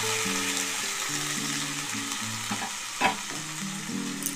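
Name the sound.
grated carrot paste frying in ghee, being stirred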